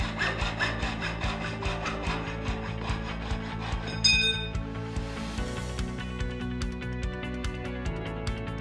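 A hand saw cuts through a curtain track rod in steady, rapid back-and-forth strokes, close up, with a brief metallic clink partway through before the rhythmic sawing carries on.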